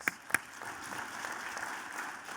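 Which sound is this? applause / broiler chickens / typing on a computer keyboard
applause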